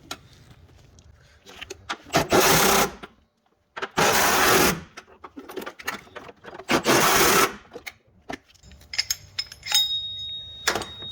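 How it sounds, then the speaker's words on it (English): A power tool tightens bolts on the water pump of a 2007 Honda Odyssey during a timing belt job, with four loud whirring bursts of about a second each and quieter ratcheting clicks and handling noises between them. "And then we're going to go ahead and tighten these down."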